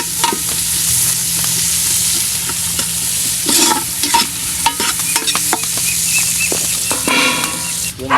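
Garlic and onion sizzle in a hot pan for kaldereta, making a loud steady frying hiss broken by scraping stirs and clinks of a utensil, close up.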